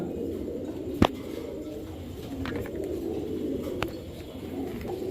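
Pigeons at a farm selling Pakistani Teddy, Gorra and racer breeds coo in a steady low murmur throughout, with a couple of sharp nearby clicks.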